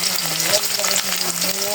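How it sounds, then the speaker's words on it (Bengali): Potatoes with turmeric fry in a pan, a dense, continuous close sizzle with light stirring, and a faint voice murmurs beneath it. "এখন আলুগুলো ভেজে নেব"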